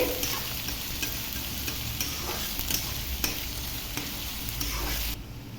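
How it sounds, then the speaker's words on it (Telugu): Finely chopped onions fry in a pan with a dense, continuous sizzle and occasional stirring scrapes, close and steady until it drops off abruptly near the end, for a spinach, egg and garlic spice dish. "ఉల్లిపాయ మెత్తబడే వరకు కొంచెంసేపు వేయించుకుందామండి"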